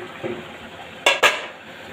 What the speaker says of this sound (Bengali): এবার এটা ঢাকা চাপা দিয়ে ফুটতে দেবো